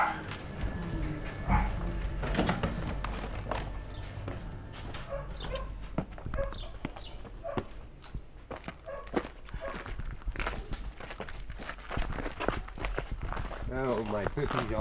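Puppies at an animal rescue center barking and yipping in short bursts amid footsteps and shuffling, with a person talking over them throughout.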